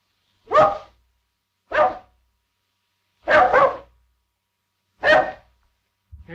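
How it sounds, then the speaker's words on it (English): A dog barks inside a house, five sharp barks spaced a second or more apart, fairly close and clear with silence between them and no talk. "Here's that bark again."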